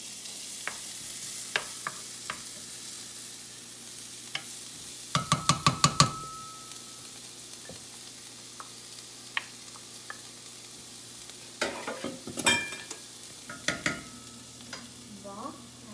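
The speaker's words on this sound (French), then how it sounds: "On va faire cuire nos échalotes." Shallots cooking in melted butter in a pan, a low steady sizzle with intermittent scraping and stirring clatter, a cluster of sharp utensil taps midway, close and fairly quiet.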